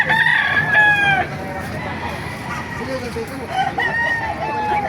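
Roosters crow at a busy outdoor chicken market in Baliuag, one close crow up front and another further off, over crowd murmur and clucking fowl, with people talking throughout.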